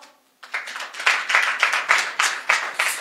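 A worship congregation claps together in a steady rhythm, loud and close, with regular hand claps following a brief hush at the start.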